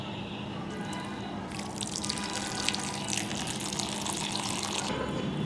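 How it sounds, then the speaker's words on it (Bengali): Water poured from close by onto hot cooked rice in a pot to make panta bhat, a steady rushing splash with no pause that swells slightly midway. "জল দিয়ে দেব গরম ভাতে, এই যে"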